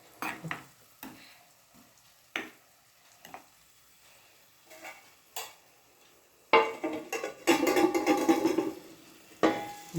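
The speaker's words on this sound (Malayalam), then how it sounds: "വറുക്കാൻ വെച്ചിരിക്കുകയാണ്" Mackerel pieces frying in a pan with ginger, green chilli and garlic nearby, heard as soft, patchy sizzling broken by light stirring and utensil clicks, building to a louder, steady crackle toward the end.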